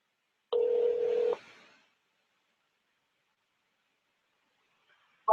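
Telephone keypad dialing: a single steady DTMF tone held for almost a second, clear and close in an otherwise silent stretch, with a brief new sound starting right at the end.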